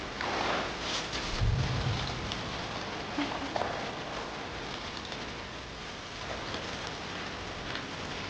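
Steady rain hisses and patters in the Death Stranding 2 video game, a moderate continuous wash with a few soft low rumbles and thumps, no talking.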